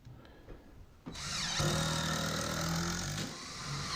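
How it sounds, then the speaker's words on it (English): Power drill driving construction screws into a wooden framing joint during a bathroom remodel, a quiet handling bump followed by a sustained whirring motor run of a couple of seconds. "So I'll just screw this together here"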